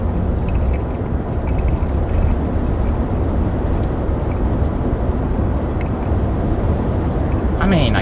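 Steady road roar and wind noise heard from inside a 2022 Nissan Frontier PRO-4X pickup with a roof rack, cruising at about 40 mph, a loud constant rumble throughout.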